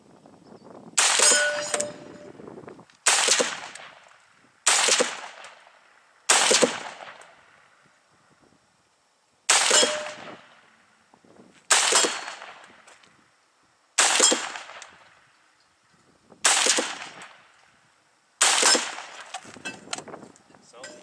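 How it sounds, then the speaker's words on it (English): Nine FN FAL rifle rounds crack out at a range in separate loud shots a couple of seconds apart, each ringing off a steel target, with short pauses of quiet between. "So let's go ahead and shoot a little more here."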